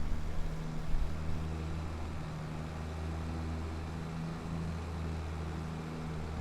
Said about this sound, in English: Hop back in the tractor.